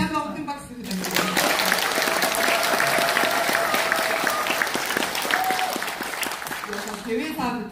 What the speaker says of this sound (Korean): 좋은 발표해 주시라는 의미로 다시 한번 큰 박수 부탁드립니다.